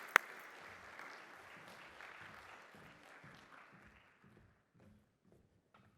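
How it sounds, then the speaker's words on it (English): Quiet audience applause at the Caribbean Investment Forum for Bahamas Deputy Prime Minister Chester Cooper, clapping that fades out over a few seconds into faint footsteps. "Give him a round of applause as he comes."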